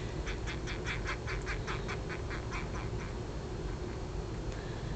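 A frisky male crested gecko gives a quick run of about a dozen sharp, evenly spaced chirps over steady background hiss, with one more chirp near the end; faint and close.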